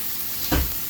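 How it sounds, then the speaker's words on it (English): A short burst of sizzling as trout hits a hot pan to sear, rising briefly over a steady background hiss. "Beautiful sizzle."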